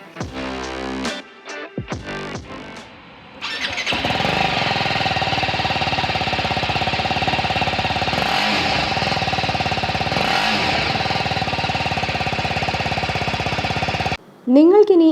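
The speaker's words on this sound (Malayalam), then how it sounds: "നമുക്കിനി ഈ ബൈക്കിൻ്റെ എക്സോസ് നോട്ട് ഒന്ന് കേട്ടാലോ" A BMW G310RR motorcycle engine runs loud and steady close by, its exhaust note holding a rough, buzzing drone for about ten seconds before cutting off abruptly.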